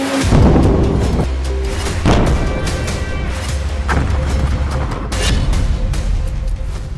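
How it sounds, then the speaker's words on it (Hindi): Heavy, continuous rumbling with repeated deep booms and crashes from air strikes in Lebanon, loud and close, explosions going off in sequence with debris noise between blasts. "एयर स्ट्राइक, धमाके, जमीनी एक्शन की यह तस्वीर है लेबनान की"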